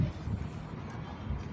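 Wind sweeps across the rooftop of a high-rise tower in Angeles City, some 40 floors up, as a faint, steady low rumble buffeting the microphone.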